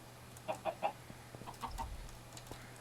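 Chicken clucking in a video game, a short run of three quick clucks followed by a few softer ones over a low steady hum, with no talk.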